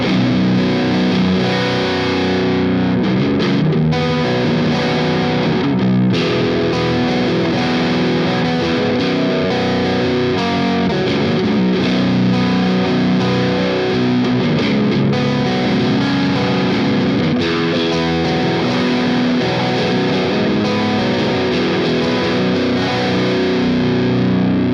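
Electric guitar played through an Orange OR15 amp with heavy distortion, a thick continuous wall of loud driven chords and sustained notes with swelling gain and no talking.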